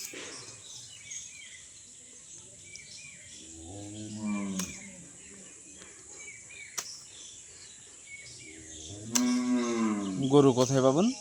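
A cow in a garden setting lets out two drawn-out moos, the second louder and longer, over a quiet background of insects and faint birds.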